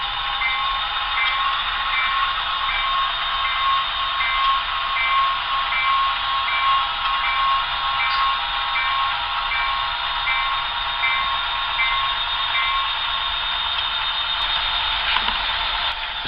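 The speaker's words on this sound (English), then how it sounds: "The pusher is closing up the train and bringing up the remainder of the cars" A model train pusher locomotive closes up its train at a Lehigh Valley model railroad yard, giving a steady, continuous electric hum and whir with faint wheel clicks, even and unbroken throughout.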